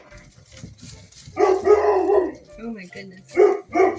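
A pet puppy barks and yips indoors in a kitchen, a few short sharp bursts close by, mixed in with someone talking to her.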